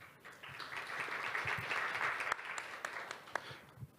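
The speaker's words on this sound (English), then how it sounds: "Please welcome him with a big applause." A conference audience applauds a speaker, a dense, steady wash of many hands clapping that is heard from a moderate distance and is fairly faint. A few sharper claps stand out near the end.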